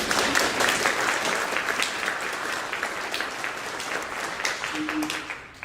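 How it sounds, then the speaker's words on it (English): Audience applause at an acoustic music event, a continuous crackle of many hands clapping at moderate volume, tapering slightly toward the end. "Can we all give a round of applause to Juliet Potts, just real fast?"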